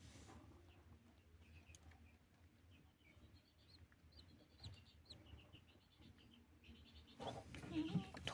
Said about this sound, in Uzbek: Tuxumlarda ovoz turibdi.